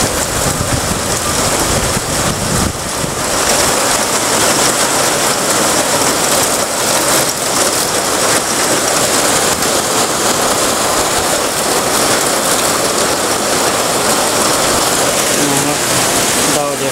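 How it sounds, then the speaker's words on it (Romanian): Heavy rain pours down steadily and loudly for the whole stretch, a dense continuous wash on a surface near a village, with faint low rumbles beneath and a voice briefly audible. "Foarte mare ploaie. Păi ce ploaie."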